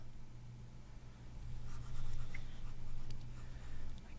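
Eraser rubbing writing off a board during a chapter review lesson, a faint continuous scrubbing swish with gentle rising and falling strokes over a low steady hum.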